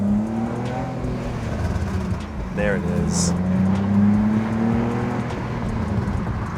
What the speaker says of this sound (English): The tune comes with pops and burbles.